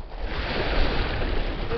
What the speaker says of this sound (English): Water's pretty rough.